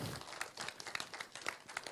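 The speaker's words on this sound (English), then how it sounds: "you can clap" An audience at a programming conference lecture claps at a moderate distance, a steady patter of hands that stays fairly soft and continuous for a couple of seconds.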